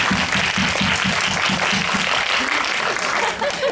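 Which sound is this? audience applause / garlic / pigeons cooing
audience applause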